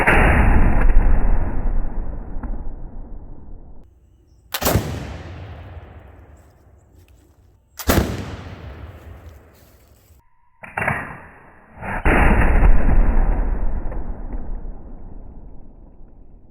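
Snaphaunce flintlock-style muzzle-loading gun firing, sharp booming shots with long decaying echoes; a loud report is followed by two more sharp cracks and another heavy blast, each ringing out across an open outdoor space.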